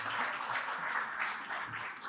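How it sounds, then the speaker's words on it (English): Conference attendees at a biodiversity finance event give a round of applause for poster presenters, a steady, moderately loud wash of clapping sustained for a couple of seconds. "may I just request a final round of applause to our poster presenters"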